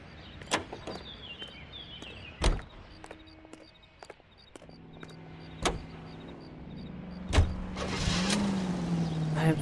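A car in L.A. Noire with sharp door thunks, clicks and mechanical whirs, then the engine starting and a low idle hum building at the end.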